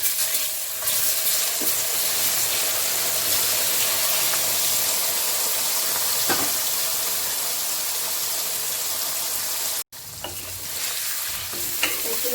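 Pumpkin pieces sizzle as they fry in hot spiced oil for a pumpkin pickle, giving a steady loud hiss throughout, with a few stirring scrapes and a brief drop near the end.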